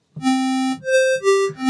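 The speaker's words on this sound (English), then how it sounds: "Imagine that I have here two square waves" Three short buzzy synthesizer notes step upward one after another, hollow and bright, each held briefly and clean with no talking.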